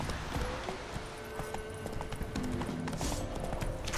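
Horse hooves clip-clop in The Witcher 3: Wild Hunt, a light steady patter of game hoofbeats that carries on for a few seconds under ambient music and background game sound.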